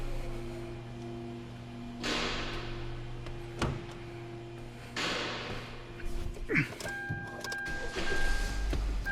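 A Kia car is cranked to start, giving a couple of rising whirring cranking bursts, a thud and a short squeal. A steady hum and a faint warning tone sit underneath.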